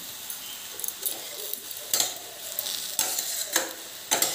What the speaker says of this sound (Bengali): আবারও একবার নেড়ে চেড়ে নিচ্ছি